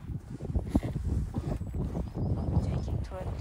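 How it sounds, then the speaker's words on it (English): Wind buffets the microphone in low gusty rumbles, with a voice talking intermittently over it. "Oh, it's windy."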